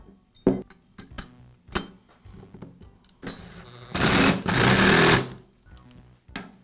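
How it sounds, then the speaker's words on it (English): Parts being reinstalled on a Makita belt sander, with a dust deflector and belt guard fitted back on: scattered clicks and clinks of plastic and metal, plus a louder rushing burst in the middle. "Now reinstall the dust deflector and the belt guard."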